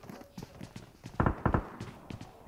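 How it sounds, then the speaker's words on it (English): Footsteps in a shooter video game, a run of short thudding steps with two louder, closer impacts in the middle, all moving at a walking rhythm inside a building. "I'm hearing footsteps."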